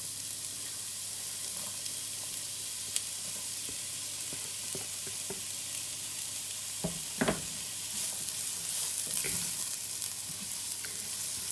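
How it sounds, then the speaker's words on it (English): Onions fry in plenty of oil in a pan on the stove, with a steady close sizzle and a few brief clinks as they are stirred, no voices. "Fry the onions until it is a bit soft and transparent."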